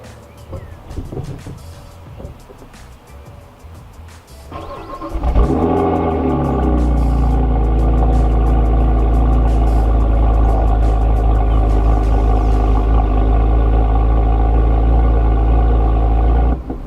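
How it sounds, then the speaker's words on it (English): BMW car engine cranks and starts after a battery replacement, a brief starter whir then a loud, steady idle that settles in and continues close by, with quiet handling noises beforehand. "I'm going to see if this car starts to make sure we're good to go"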